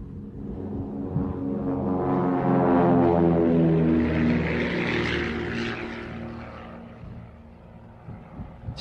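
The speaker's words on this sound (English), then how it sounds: "Specially fitted light aircraft can be ready at short notice whenever conditions appear suitable." Specially fitted light propeller aircraft used for cloud seeding, its engine droning steadily and loudly as it swells to a peak and then slowly fades, with no talk.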